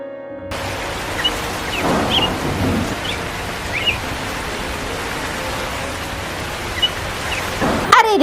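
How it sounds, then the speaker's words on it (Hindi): Cartoon rainfall hisses as a steady, even wash throughout, with faint low rumbles and small scattered accents beneath. "रास्ते में ही बारिश होने लगी"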